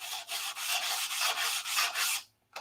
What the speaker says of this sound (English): this is detail sanding